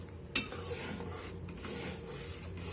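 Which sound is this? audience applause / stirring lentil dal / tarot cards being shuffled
stirring lentil dal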